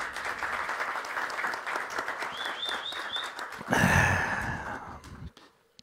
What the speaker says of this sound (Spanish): Un aplauso a Fernando, por favor.